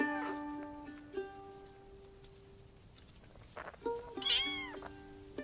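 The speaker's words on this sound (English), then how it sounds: "Bobcat kittens, just 4 weeks old." Four-week-old bobcat kittens meow in the wild, with a long drawn-out tonal call at the start and more mewing and squeaky cries near the end, close and fairly clear over quiet background rustling.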